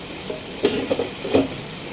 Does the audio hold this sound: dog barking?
no